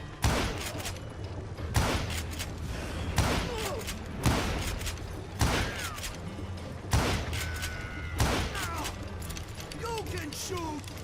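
Gunfire in the Call of Juarez Gunslinger video game, sharp loud shots cracking at irregular intervals every second or so, each trailing off with ringing echoes and game effects, under a continuous layer of voices.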